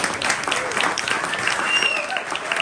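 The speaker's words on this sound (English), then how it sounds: "Please give them a big round of applause." A crowd at a pub politics panel event applauding the panellists, a dense, continuous wash of clapping at moderate loudness, with faint voices and cheers mixed in.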